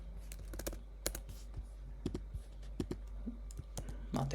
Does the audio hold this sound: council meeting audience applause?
no